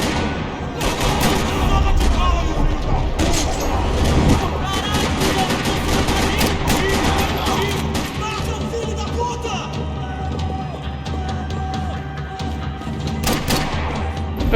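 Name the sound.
gunfire in the video game Max Payne 3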